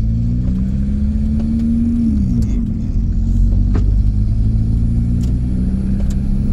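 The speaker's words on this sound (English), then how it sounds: "the engine doesn't sound happy" VW camper van fitted with a swapped TDI diesel engine, running lumpy and unhappy, revs steadily while driving, a loud close drone whose pitch dips briefly mid-run before settling, with road rumble beneath.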